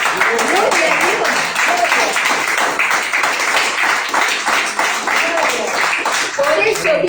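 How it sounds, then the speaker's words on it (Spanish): A church congregation claps steadily and loudly throughout, a dense, continuous wash of applause with voices mixed faintly underneath. "Denle un fuerte aplauso al Señor"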